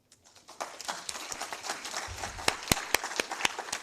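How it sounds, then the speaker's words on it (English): A room full of conference attendees bursts into applause, starting with a few claps and swelling into dense, steady clapping with some sharper individual claps standing out, close and moderately loud. "a round of applause also for you in the room"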